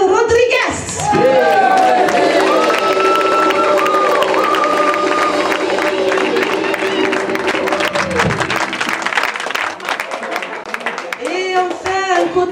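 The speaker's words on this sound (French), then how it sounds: "Elle est splendide, on peut l'applaudir" A theatre audience applauding and cheering, with a loud sustained clap and whoops over several seconds while a voice calls out and music swells, then the clapping thins and fades.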